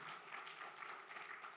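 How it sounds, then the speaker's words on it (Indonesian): Sustained applause from a church congregation praising God during a sermon, a dense continuous patter of many hands, steady and even throughout, with no talking. "Tepuk tangan bagi Allah kita."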